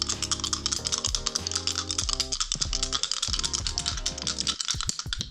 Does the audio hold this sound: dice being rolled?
yes